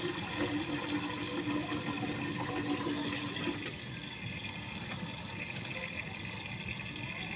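Water runs and splashes steadily as leafy greens (note shak) are washed by hand, a continuous close wash that eases slightly softer halfway through, with no talk.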